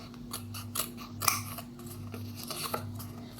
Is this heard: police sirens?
no